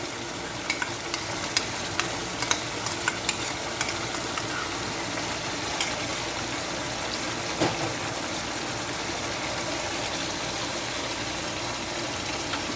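Yogurt is fried and stirred into chicken makhni karahi in a hot pan, giving a steady dense sizzle with scattered spoon scrapes and clicks throughout, close and fairly loud, with no talking.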